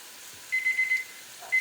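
Kitchen timer for cooking rice beeping in a kitchen: a steady run of quick electronic beeps for about half a second, then a brief second burst, faint and alone.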